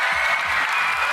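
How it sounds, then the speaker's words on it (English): Audience at a Nigerian public gathering with a governor and monarchs claps briefly, a loud burst of crowd applause with a low murmur beneath. "Clap for them."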